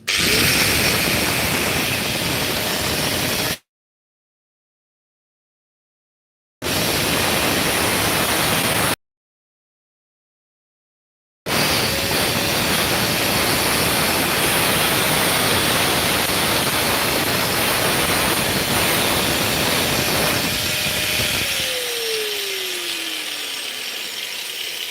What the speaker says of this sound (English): Cut that right there with a grinder